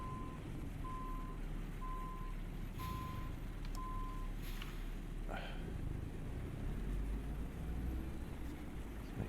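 Truck in a Missouri driving game reversing and manoeuvring, steady beeps of its reversing alarm over a low engine rumble, then a hiss of air brakes, while someone talks throughout.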